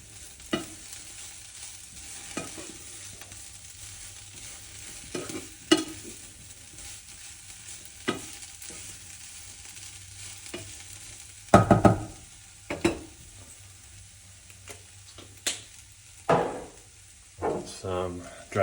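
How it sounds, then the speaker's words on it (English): A one-pot leftover meal sizzles continuously in a pan while a utensil stirs and scrapes it, giving a series of sharp knocks and clatters spaced every couple of seconds over the steady frying hiss. "Give it a stir."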